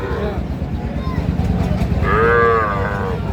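A young Sahiwal calf at a busy cattle market lets out one loud, drawn-out moo near the end, over a steady crowd murmur.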